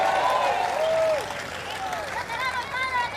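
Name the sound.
congregation applauding for Father Luis Toro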